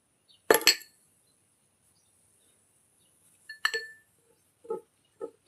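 A spoon clinks against a small glass or steel bowl while homemade kumkuma of turmeric, baking soda and lemon is mixed, giving a few sharp, close taps separated by silence.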